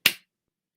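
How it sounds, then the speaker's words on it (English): A single sharp hand clap, loud and close, that decays quickly into silence. "if we clap our hand,"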